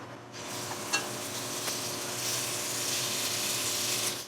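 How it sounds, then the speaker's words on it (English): Venison sears in hot oil in a pan for an Italian stew, a steady close sizzle and crackle with a few stirring scrapes, no talking. "We're going to get a little oil going, and we're going to get a nice sear on this venison on all sides"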